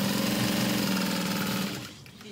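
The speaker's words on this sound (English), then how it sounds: "So we're gonna sew around this in a square" A sewing machine stitches around a bag pocket in a square, a fast steady mechanical whirring that runs evenly, then slows and stops near the end.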